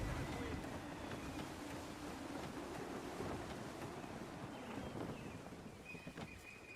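A sailing ship runs at full sail in the Assassin's Creed III video game, a steady, soft wash of wind and breaking waves with creaking hull noise, kept low and constant throughout, with faint speech in the background.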